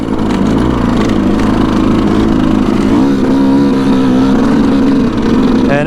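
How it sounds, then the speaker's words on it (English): A Yamaha YZ125 two-stroke dirt bike, nearly stock apart from an FMF Turbine Core 2 aftermarket pipe, runs loud and close, its buzzing engine steady with rising and falling revs, no voices. "YZ125. It's a 2-stroke. It's pretty much stock."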